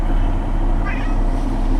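A cat lets out a single short meow partway through, heard over a steady low rumble.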